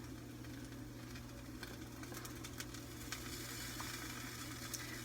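Burger patty and melting cheese sizzle steadily on a hot cooking surface, a constant close frying hiss with faint crackles and no voices.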